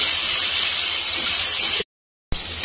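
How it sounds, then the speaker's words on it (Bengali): Bitter gourd and eggplant fry together in hot oil in a kadai, making a loud, steady hiss that cuts out briefly and then returns just as strong. "বেগুনগুলাও একসঙ্গে ভেজে নিচ্ছি"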